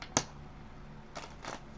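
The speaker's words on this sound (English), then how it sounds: "I'm just going to give them a quick shuffle" A deck of tarot cards gets a quick shuffle, heard as a sharp riffle snap near the start followed by two soft, brief rustling bursts, close and fairly quiet with no talking.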